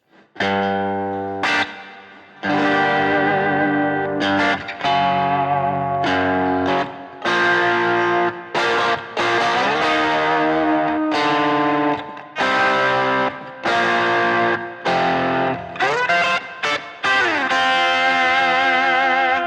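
Distorted electric guitar chords on a Fractal unit, strummed in a steady rhythm with effects and wide stereo panning, loud and continuous with brief gaps between phrases.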